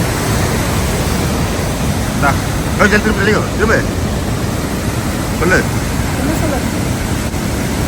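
Athabasca Falls in the Canadian Rockies pours with a loud, steady roaring rush of water heard up close, while people talk briefly over it.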